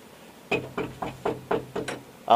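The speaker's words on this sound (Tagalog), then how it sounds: "Ayan, may kumakatok." Knocking on a door: about seven evenly spaced knocks in a steady rhythm, fairly close and clear with quiet room tone between them, ending on a slightly louder final knock.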